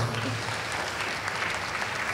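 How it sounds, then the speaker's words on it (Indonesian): Audience at an Indonesian youth seminar on the economy breaks into sustained applause, a dense, even roar of clapping that fills the whole stretch with only faint murmurs beneath. "Tepuk tangan dulu dong semuanya"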